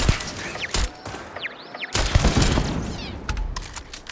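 Gunfire aimed at an enemy turret in the sci-fi video game Starfield: several sharp shots and impacts with laser-like sweeping tones, loud and close over a dense background of game noise.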